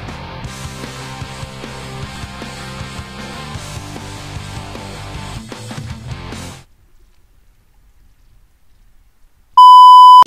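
A guitar item in Minecraft plays a pop song as a dense run of bright plucked notes for about six seconds, then stops abruptly; after a near-silent pause, a loud steady electronic beep tone sounds alone at the end.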